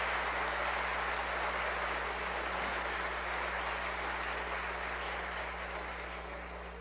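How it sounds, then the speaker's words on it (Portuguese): Applause from a church worship crowd, a steady patter of clapping that slowly fades, with no voices. "Merecia uma salva de palmas, não merecia?"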